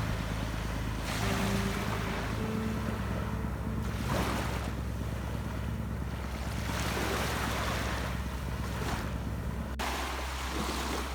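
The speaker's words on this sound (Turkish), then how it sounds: "Küçük balıkçı tekneleri de kısmetin peşindeydiler." Waves wash in at sea with a low, steady hum of a small fishing boat's engine underneath, and wind buffets the microphone throughout.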